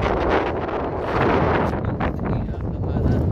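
Strong wind buffets the microphone in a continuous roaring rumble, loud and close, with gusts swelling and easing throughout.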